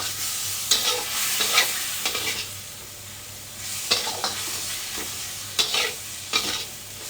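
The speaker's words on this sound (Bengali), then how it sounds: "একটা অল্প জল দিয়ে কষাবো যাতে পুড়ে না যায়।" Masala with coriander powder sizzles in a pan with a little water, stirred in repeated scraping strokes over a steady low frying hiss, close and fairly quiet with no talking.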